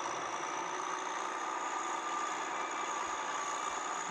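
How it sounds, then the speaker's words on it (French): A scraper's engine labours steadily as its blade digs into the ground, a dense, constant mechanical drone with no pauses or talk, bogging down under the load. "il a planté la lame, il commence à souffrir"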